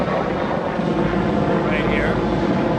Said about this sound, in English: military helicopter flying right over this area of the beach